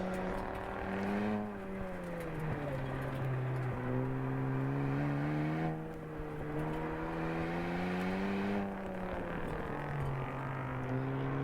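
Autocross car driving a ProSolo course, engine note rising and falling steadily as it accelerates and shifts through the run, continuous and moderately near with no talk.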